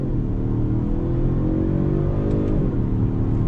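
A 2021 Genesis G70 accelerates hard under throttle, its engine note climbing in pitch, briefly shifting, then building again, heard steadily from inside the cabin.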